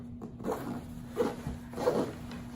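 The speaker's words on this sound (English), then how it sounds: "zips into itself right here." A zipper runs along an Alps Outdoorz Pathfinder hunting pack in a few short bursts, close and fairly quiet, with soft handling noise between the pulls.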